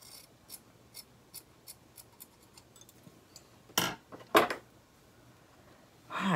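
Sharp scissors snipping through material during a thrift-store wood star craft makeover, several crisp cuts standing out from faint ticking handling noise.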